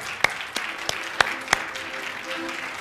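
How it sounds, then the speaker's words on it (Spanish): Worshippers at a church service clap for God, heard as a sparse scatter of distinct hand claps, a few sharp and prominent ones ringing out over a light, low background. "Vamos a dar un fuerte aplauso a nuestro Dios"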